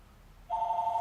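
A telephone rings indoors, a steady electronic ringing tone that starts abruptly halfway through and continues loud and alone to the end.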